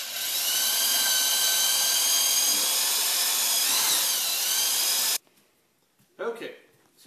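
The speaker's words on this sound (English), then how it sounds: "now that we've got the pilot hole drilled" Power drill boring a pilot hole into wood while building a raised vegetable garden bed, a loud steady whine held for about five seconds before cutting off, followed by brief quieter handling noise.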